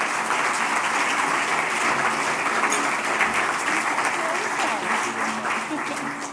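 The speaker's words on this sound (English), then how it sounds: "This is where you can clap" An audience at a customer experience award ceremony applauds a winner, sustained crowd clapping filling the hall for several seconds at an even, full level.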